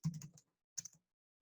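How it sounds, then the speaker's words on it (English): Quiet typing on a computer keyboard during spreadsheet work, a quick burst of several keystrokes followed by a second short cluster, close and soft. "but I type once again"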